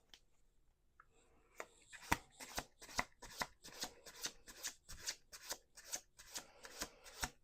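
Tarot cards are shuffled in a quick, regular series of crisp riffling bursts, close and fairly quiet, with no talking.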